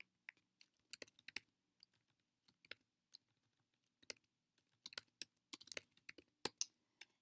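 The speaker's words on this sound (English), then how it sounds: "Let's type in Johnstown Farmers Market." Irregular bursts of clicking keystrokes on a computer keyboard, quiet and close, with short pauses between runs of typing and a busier flurry near the end.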